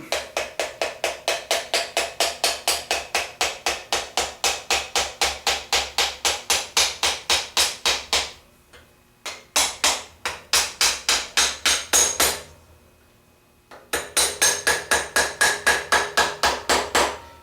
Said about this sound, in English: I have to give this one just a little tap.